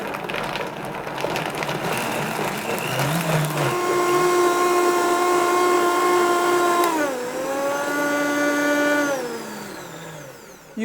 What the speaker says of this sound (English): And blend until it's smooth.